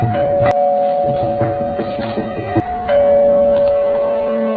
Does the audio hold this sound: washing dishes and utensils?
no